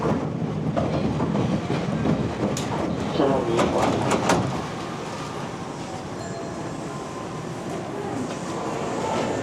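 Hankyu Imazu Line train at Nishinomiya Kitaguchi station, heard up close as a steady rumble with rattling wheel clicks and brief bright squeaks, settling into a quieter hum toward the end, with a voice talking over it.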